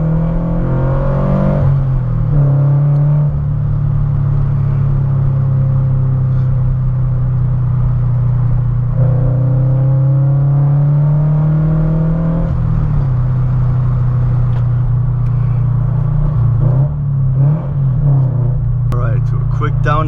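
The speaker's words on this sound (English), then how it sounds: "I can get a small acceleration here because I'm at a red light" Tuned Subaru BRZ with a JDL header accelerating gently away from a red light, a loud steady engine drone heard from inside the cabin with rising tones as it pulls, while the driver talks over it.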